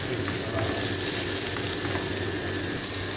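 Garlic and onion sautéing in a hot pan for chicken kabsa, a dense, continuous close-up sizzle and crackle at a steady level with faint stirring clicks.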